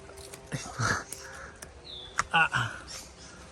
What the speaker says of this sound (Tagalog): daming ibon dito o